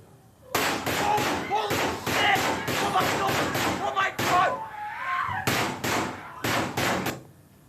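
Gunfire in a high-school classroom during a shooting comes as a rapid series of loud, sharp bangs in bursts, with brief pauses, and frantic voices can be heard underneath.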